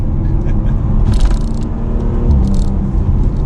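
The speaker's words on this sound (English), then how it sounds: "doing some downshifts" A 2021 Audi RS5 Sportback engine rumbles steadily as it downshifts while driving, a loud, dense drone with slight rises in pitch and no pauses.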